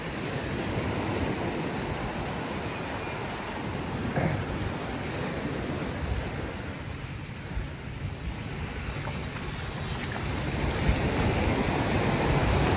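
Steady sea breeze and rolling surf on a beach at Playa de Oro, Vallarta, with constant broadband wash, gusts of wind buffeting the microphone and no voices.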